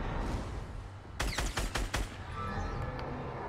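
A quick burst of about five gunshots from Fortnite, fired at Thanos, rings out sharply over steady game ambience and then stops.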